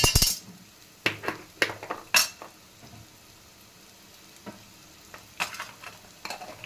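Ginger paste and turmeric fry in a pan for beetroot rice, a soft sizzle broken by several sharp clinks and scrapes of a spoon stirring, fairly quiet overall with no talking.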